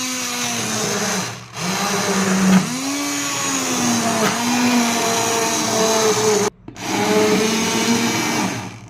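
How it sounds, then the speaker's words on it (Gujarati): A blender grinding tomatoes whirs loudly and continuously, its motor pitch rising and dipping as it grinds, with two brief cut-offs before restarting. "હવે આપણે આમાં બ્લેન્ડર કરી દઈશું"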